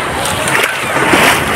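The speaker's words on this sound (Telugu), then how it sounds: "ఫోన్ మీద పడిపోతున్నాయి నీళ్ళు." Sea water at Antarvedi beach splashes over a phone, a close, rough wash of spray and sloshing that fills the short moment, with faint voices nearby.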